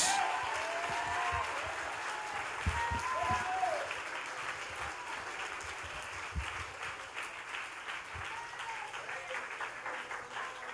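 Worshippers in a church break into sustained clapping for God, a broad crowd applause that stays loud for a while before easing slightly, as a voice talks faintly underneath during a Bisaya sermon.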